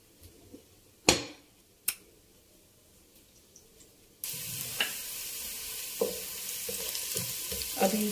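Whole spices with cinnamon pieces, a bay leaf and mace frying in oil, opening with two sharp clacks before a sudden loud steady sizzle takes over, broken by light stirring taps.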